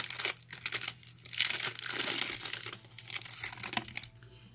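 A mail package holding wooden embellishments opened by hand, with close crinkling and tearing of paper and plastic in bursts, then quieter rustling before it fades.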